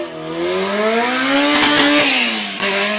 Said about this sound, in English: A very loud car right there.